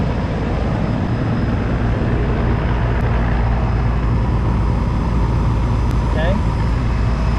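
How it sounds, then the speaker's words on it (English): An air conditioner compressor runs steadily with a loud, low drumming hum and broad mechanical noise throughout, unbroken and close by. "It's that real low kind of drum. That is the part that's moving the Freon"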